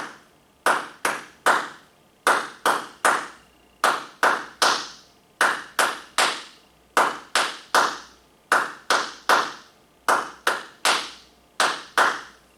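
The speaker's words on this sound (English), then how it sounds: "All it is clapping sounds, but because I've organized those sounds into a pattern, I'm making music." Hands clap a repeating rhythm pattern, crisp and close, in regular groups of three and four claps separated by short pauses, cycling evenly throughout with no talking.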